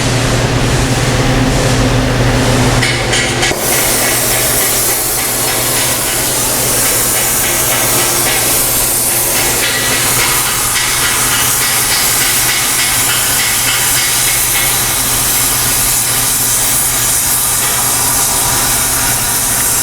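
A torch heats a metal surface for powder hard surfacing, giving a loud, close, steady roaring hiss that runs unbroken through the whole stretch with no speech.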